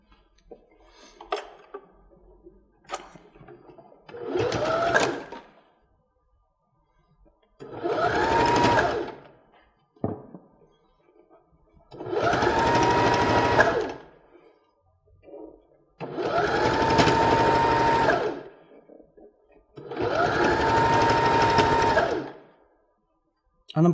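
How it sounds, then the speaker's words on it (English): A sewing machine stitches a quilt binding along the edge with a 5mm seam, running in five steady whirring bursts of a few seconds each, separated by short pauses with faint handling clicks. "I'm going to run down the edge with a 5mm seam allowance"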